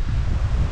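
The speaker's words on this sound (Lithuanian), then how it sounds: "Vėjas jau iškyla nežmoniškai, pradeda lyti." Strong gusting wind buffets the microphone in a forest just before rain, a dense low rumble filling the short moment with no voices.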